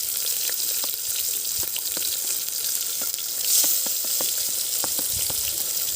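Onions sautéing in a pan for a Chettinad country chicken curry, giving off a dense, continuous sizzle with scattered small pops and crackles, close and fairly loud throughout.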